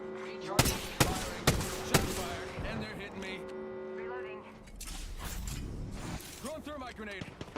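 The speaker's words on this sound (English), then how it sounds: "Getting shot at." Gunfire in Apex Legends: four sharp evenly spaced shots ring out early, followed by a busier mix of game effects and tonal sounds, with a voice talking over much of it.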